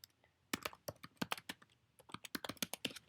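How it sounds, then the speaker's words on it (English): Fingers tap quickly on a computer keyboard while a search about downloading macOS goes into a Chrome tab. Close, crisp keystrokes come in irregular clusters, starting after a brief quiet pause, with no talking. "I'm going to type in how to download"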